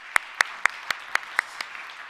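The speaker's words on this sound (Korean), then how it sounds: "박수 한번 납시다." A church congregation at a founding service claps about seven sharp, evenly spaced claps in a slow rhythm, then fades off quietly.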